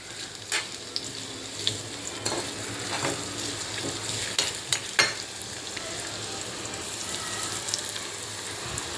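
Beetroot pieces frying in a pan for chutney, a steady sizzle with occasional spoon scrapes and knocks against the pan, close by, no talking.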